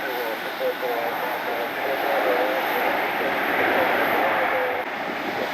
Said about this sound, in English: 767 inbound.